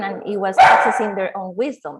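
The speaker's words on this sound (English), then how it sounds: "That's my dog, sorry. It's just fighting with a neighbor dog." A dog barks repeatedly while fighting with a neighbor dog, loud, sharp yips and barks bursting through and under a person's ongoing speech.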